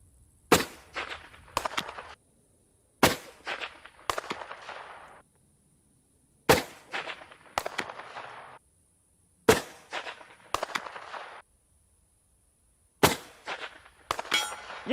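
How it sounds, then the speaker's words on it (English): Rifle shots fired from a steady platform at a target 600 yards away, six sharp cracks spaced a few seconds apart, each followed by a rattling echo and a faint distant impact, loud and close with no talking. "Here is a shooter from a steady platform, shooting at a target 600 yards away."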